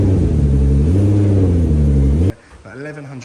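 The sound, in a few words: 1100 brake horsepower modified car engine revving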